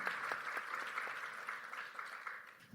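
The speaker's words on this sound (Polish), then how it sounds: "Poproszę o brawa dla Ani." A steady audience clapping at a conference stage event, many hands together at a moderate distance, continuing evenly throughout without voices on top.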